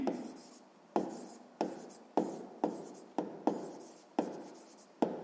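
Pen writing on paper during a sixth-grade maths exercise, a steady series of about ten distinct strokes, each a sharp scratch that fades, close and fairly quiet with no talk.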